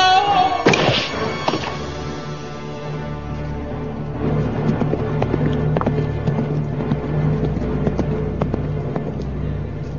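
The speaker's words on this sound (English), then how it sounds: "Being chased to your death by a phantom horse rider." Galloping horse hooves in a radio drama chase with a phantom headless rider, rapid rhythmic thudding hoofbeats running steadily for ten seconds after an opening crash, moderately loud and with no talk.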